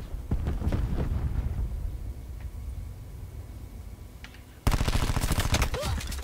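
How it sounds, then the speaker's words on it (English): Gunfire in Call of Duty: Black Ops 4 comes as a burst of shots, a quieter pause with distant pops, then a sudden loud rapid automatic volley that runs to the end. "Oh, this gun is so sporadic."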